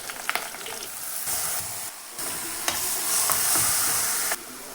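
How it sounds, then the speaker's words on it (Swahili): Sukuma wiki greens cook in a hot pan in a home kitchen, with loud sizzling and hissing that comes in bursts. Stirring clatters in between, and a few short gaps break the frying sound. "Hapa tunapika sukuma."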